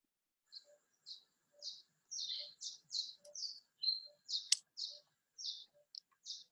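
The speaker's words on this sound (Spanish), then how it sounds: "Está muy bonito el cantico de los pajaritos por allá." Small birds chirp and sing nearby in a series of quick, bright chirps and short trills repeating at a steady pace, clear against an otherwise quiet background.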